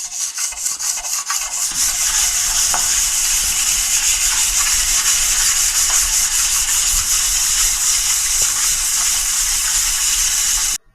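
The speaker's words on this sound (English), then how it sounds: "I'm going to just lightly sand that off" A belt sander runs continuously with a loud, steady abrasive hiss as it sands corrosion off a metal bed, then cuts off abruptly at the end.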